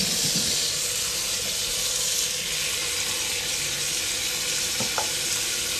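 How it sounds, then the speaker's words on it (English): A soft sponge is squeezed into dish soap suds, giving a continuous wet fizzing and crackling hiss of bubbles, close and steady, with a couple of small squelches and no talking. "we're gonna make some suds and clean that fabric softener off"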